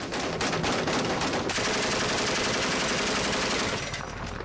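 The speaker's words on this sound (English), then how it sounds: "Video of this firefight, obtained exclusively by CBS News, was recorded by a camera mounted on a U.S. soldier's helmet." Dense, sustained gunfire rattles through a firefight on the streets of Mosul, recorded from a U.S. soldier's helmet camera, with rapid overlapping automatic bursts at loud, saturated level and a brief sharper crack midway.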